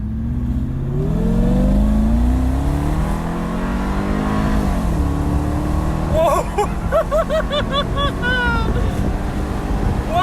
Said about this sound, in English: you get that glorious noise of the V8 and the whine of the supercharger